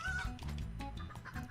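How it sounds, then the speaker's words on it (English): Chickens clucking in the video game Turnip Boy, a short burst of close, busy clucks heard alone with no talk over them. "Chickens."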